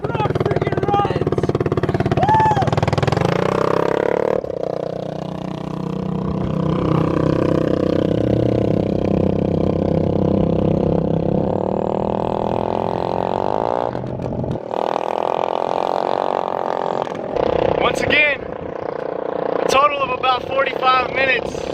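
A stolen dirt bike with no seat runs after repairs, its engine droning loudly and steadily with occasional revs, while people talk over it nearby.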